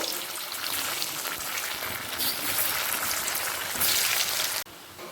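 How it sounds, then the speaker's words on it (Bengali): Potatoes frying in the same hot oil just used for katla fish, giving a steady, dense crackling sizzle close by that runs unbroken for several seconds before suddenly dropping quieter near the end. "ওই তেলেতেই আলুগুলোকেও ভেজে নেব"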